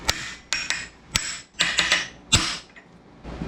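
A hammer taps on a socket to stake a nut during a differential rebuild, giving about eight sharp metallic knocks, some single and some in quick pairs, each close and loud with short ringing decays.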